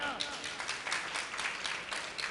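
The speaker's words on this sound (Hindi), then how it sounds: "टोडरमल जैन के लिए पुनः तालियां।" Audience applause for Todarmal Jain at a Jain religious festival gathering in Bhatapara, a dense steady patter of many hands, fairly close and continuous throughout with a murmur of voices underneath.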